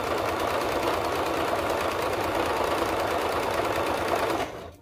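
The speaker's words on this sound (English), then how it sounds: "I just like to zigzag stitch it." A sewing machine runs a continuous zigzag stitch along the hem of a crop top, a loud, fast, close-up mechanical whirring that stops abruptly at the end.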